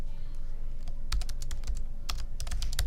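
Typing on a computer keyboard while writing the heading of an MLA-format paper, sparse at first then bursts of sharp clicky keystrokes in quick runs, close over a faint steady hum, no voices.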